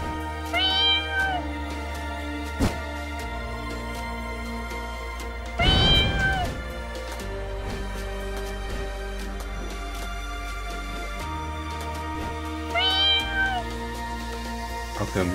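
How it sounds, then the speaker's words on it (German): Game cat in Catmaze meows three times, each call a clear rising-and-falling cry spaced several seconds apart over a low, steady musical drone, the middle one louder and rougher. "Katze."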